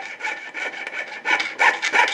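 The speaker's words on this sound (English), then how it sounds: "So what I'm going to do is take my jeweler's saw and cut this down to size." A jeweler's saw cuts through a bone shim in quick, rasping back-and-forth strokes, close and continuous, with no talk.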